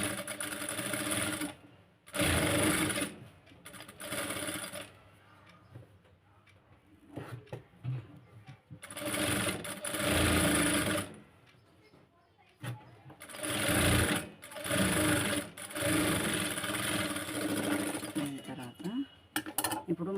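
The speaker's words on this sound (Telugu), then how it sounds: "ఫస్ట్ ఒక కుట్టు ఇలా కుట్టేసినామా, మళ్ళీ రెండోది దీనిపైనే పడాలి కుట్టు" A sewing machine stitching blouse fabric runs in several loud, close bursts of rapid mechanical whirring, separated by pauses where a person talks.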